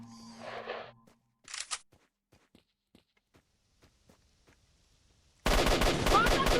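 Gunfire in the shooter game S.T.A.L.K.E.R. Shadow of Chernobyl starts with a few sharp, scattered shots and soft steps, then breaks into a sudden loud, sustained burst of automatic fire.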